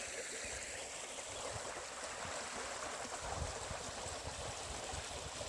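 A creek flowing steadily, a continuous close rushing and burbling of water with no voices, fairly quiet.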